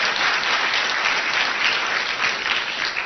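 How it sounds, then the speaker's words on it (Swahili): A crowd at a political party event claps for the SG, a thick, continuous wash of many hands that stays loud and even throughout, with no talking over it. "Tafadhali tupige makofi ya SG."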